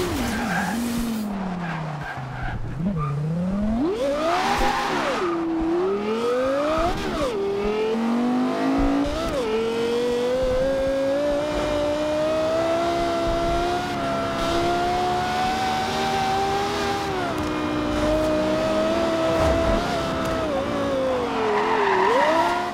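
A 777-horsepower Lexus LFA race car in the video game Forza Horizon 2 revs loud and close, its engine pitch climbing and falling steadily while tires skid and squeal, with no talking.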